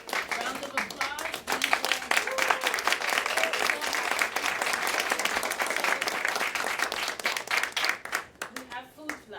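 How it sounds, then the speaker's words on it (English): A room full of guests claps at a Girls in Medicine internship graduation, dense steady applause lasting several seconds with scattered cheers and voices mixed in before it thins out at the end. "Round of applause."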